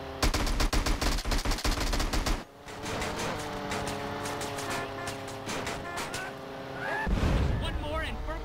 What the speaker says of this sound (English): I was able to get a nice concentrated shot with my gun on them.